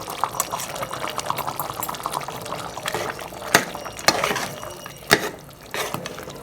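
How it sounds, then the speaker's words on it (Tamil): Ground masala added to pressure-cooked duck curry and stirred in, wet sloshing and spoon scrapes with a few sharper knocks against the pot. "அரைச்சி வச்ச மசாலா எல்லாம் போட்டுக்கலாம்"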